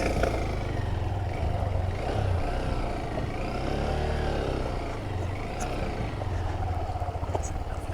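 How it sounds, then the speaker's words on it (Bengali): A motorcycle engine drones steadily as the bike rides through sea water, with sloshing and clattering mixed into a continuous, fairly loud rumble. "পানি দিয়ে মোটরসাইকেল চালে মহাসাগর পার হচ্ছি।"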